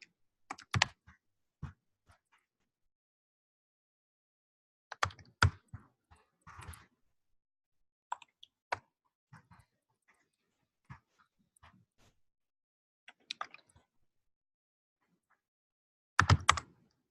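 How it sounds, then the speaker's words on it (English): Scattered bursts of laptop keyboard typing during a mock tech interview, with short clusters of key clicks separated by quiet pauses and a louder flurry near the end, close and fairly faint. "Not used to typing on laptop keyboard."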